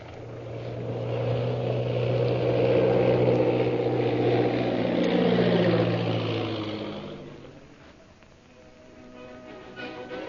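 A propeller plane's engine drones loudly, its tone sliding downward as it passes, then fades to a quieter rumble before rising slightly again.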